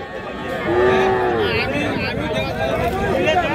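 Cattle low with one clear drawn-out moo at Ambari cattle market, a busy village livestock fair of young bulls and heifer calves, over crowd hubbub and market noise.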